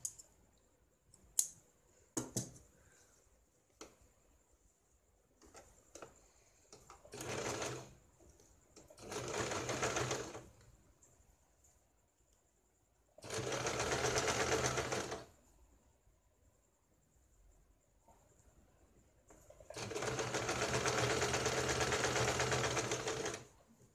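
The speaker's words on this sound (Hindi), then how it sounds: "अभी यहाँ पे हमें ये बॉटम में सिलाई लगानी है।" Sewing machine stitching the bottom hem of baby pants: several short runs of fast, steady machine whirring separated by quiet gaps with light clicks, captured nearby and fairly soft overall, no voices.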